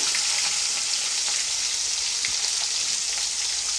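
Onions frying in hot oil give a steady, dense, close sizzle that carries evenly throughout without pause or voices.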